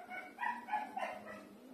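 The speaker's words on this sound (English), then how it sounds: "my dog is so noisy" A dog in a home barks and yips in a short run of three or four quick, moderately loud barks, heard alone without talking.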